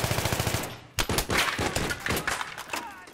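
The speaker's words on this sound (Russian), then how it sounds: "Я даже еще не вышел, уже стреляет." Rapid gunfire in a team shooter game, with fast automatic bursts of loud, close shots in quick succession, a brief pause, then more volleys.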